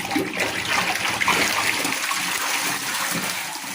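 Water splashing and sloshing steadily in a fish tank as tilapia are netted out, a continuous wet churn close by with no talk.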